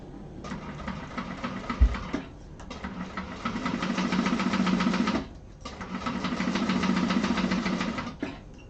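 A sewing machine stitching a beginner-friendly Martini bag runs in two long steady bursts of rapid mechanical whirring, separated by short pauses, close and fairly loud with no talk.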